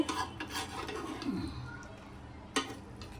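Cooked Dada Boudi style mutton biryani being cut and stirred in a pot, giving soft rasping scrapes and a few light metallic clinks. The sounds are quiet and close, with faint background noise.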